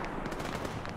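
A vehicle-mounted machine gun in ARMA 3 rattles in a rapid, steady burst of shots, fairly distant and sustained across the whole moment.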